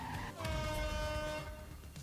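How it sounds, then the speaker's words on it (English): Car horn honking in The Precinct video game, a single sustained honk held for over a second over low engine rumble, loud and close. "Honk"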